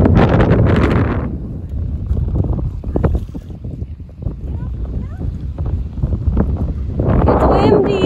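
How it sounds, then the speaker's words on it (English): Wind gusting over the water during a canoe trip on the Red Deer River, a loud, steady broadband roar with buffeting mic noise throughout and brief speech-like voices in the middle. "It's windy."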